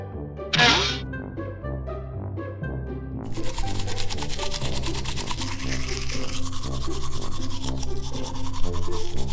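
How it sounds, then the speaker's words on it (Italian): A toothbrush scrubs teeth in a toy doctor cartoon, a steady bristly rubbing that runs alongside upbeat background music, starting after a brief bright chime. "Proviamo un altro spazzolino."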